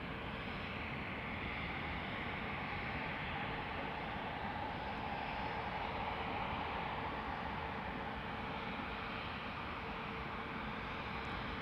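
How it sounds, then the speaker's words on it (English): An EasyJet Airbus A320neo departs Amsterdam Schiphol with a steady, sustained engine roar, a broad even rumble topped by a faint whine that holds at a constant level throughout. "EasyJet to Fuerteventura, flight 27881, A320neo."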